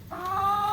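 Chickens being moved to their winter home give a single close cluck that rises into a drawn-out, steady call lasting under a second, with no voices over it.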